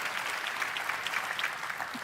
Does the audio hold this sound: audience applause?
yes